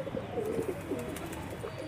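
Pigeons coo softly in a low, rolling murmur, a few overlapping calls repeating close by with no talk.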